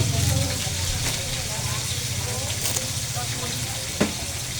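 Pechay with pepper sautéing in a pan gives a steady, close sizzle with soft stirring scrapes and a sharp knock near the end, all under a voice.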